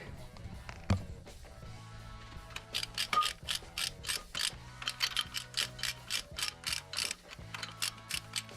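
A ratchet clicking in quick bursts while tightening flywheel bolts on a BMW E30 325i engine, close and crisp, with pauses and small metallic knocks between runs.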